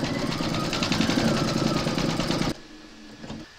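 An embroidery machine stitches gold thread into a Christmas bauble design with a rapid, even mechanical chatter, close and fairly loud, then stops abruptly, leaving faint quiet hum.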